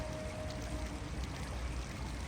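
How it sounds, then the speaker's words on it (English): A river flows steadily past, giving a constant soft rushing wash of water with low rumble and no distinct splashes, fairly quiet and even throughout, no voices. "the sound of the river flowing past your bedroom window"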